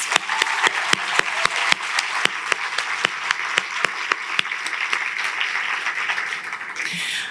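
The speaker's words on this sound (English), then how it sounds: "let's give them a round of applause" Audience applause at a storytelling festival program, steady clapping from a crowd that carries evenly for several seconds before fading at the end, with no speech over it.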